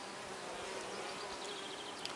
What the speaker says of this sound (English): that's what we call the red mason bee